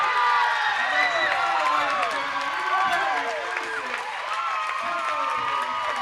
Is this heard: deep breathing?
no